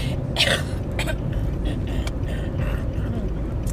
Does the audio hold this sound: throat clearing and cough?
yes